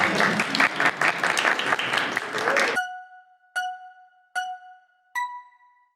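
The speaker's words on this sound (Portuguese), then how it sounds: "Palmas para Cássio ali." Audience applauding for a participant named Cássio, a brief burst of lively clapping that cuts off abruptly, followed by three separate electronic chime tones ringing out in a quiet room.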